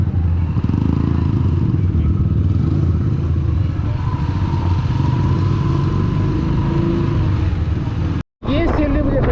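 Motorbike with a quiet silencer ridden along a road, a steady low engine drone with wind rumble throughout, briefly cutting out near the end.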